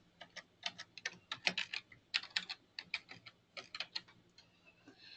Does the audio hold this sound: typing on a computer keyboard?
yes